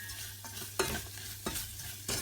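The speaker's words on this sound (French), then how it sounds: "On continue à mélanger." Sugar mixture caramelizing in a pan is stirred with a spoon, giving a few scraping strokes at a steady pace over a soft, steady sizzle, close and moderately quiet, with no talking.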